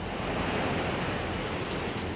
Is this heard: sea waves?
yes